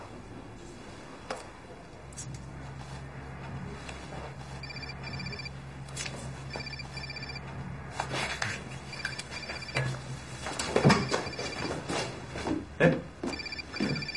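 A mobile phone rings indoors with a repeating electronic ringtone pattern for several seconds, moderately loud, followed by rustling handling noises and a few spoken words as someone reaches for it.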